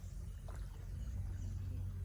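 A boat ride on a river carries a continuous low rumbling drone with a faint watery wash, steady and unbroken.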